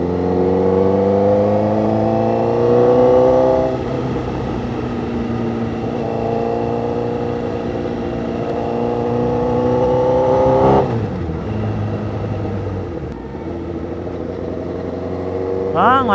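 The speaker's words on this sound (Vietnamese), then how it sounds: "Chủ yếu nghe tiếng bô ha anh em." A 2012 Honda CBR1000RR sport motorcycle's exhaust drones loudly and close as the bike rides along, its pitch climbing through gears, dropping sharply after a shift, then building again.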